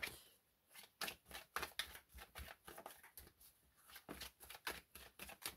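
Oracle cards shuffled and handled in quick rustling bursts, close and fairly quiet, a steady riffling rhythm with brief pauses and no voice present.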